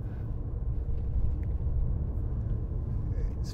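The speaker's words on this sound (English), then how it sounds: "I've gone onto the rough road now." Low, steady road rumble inside a 2015 BMW 535d 3.0 diesel saloon driving on a rough road, a muted continuous drone with faint occasional thumps and no talking.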